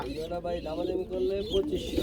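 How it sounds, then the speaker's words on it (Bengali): Baby Lahori racer pigeons making high, thin cheeping calls close by, repeated in short bursts alongside soft cooing, with people talking over them. "এটা কিন্তু বেবি কবুতর, দেয় চিচি করতেছে।"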